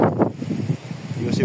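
Wind rushes and buffets the microphone on Mt. Mingan, a mountain with a dam, as hikers rest on the trail. The gusty roar stays steady while a person talks over it.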